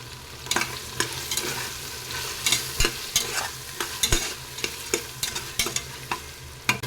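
Cut tomatoes being stirred and sautéed in a pan for tomato rice: a constant sizzle under repeated sharp scraping strokes of a spoon, roughly one or two per second, close and clear.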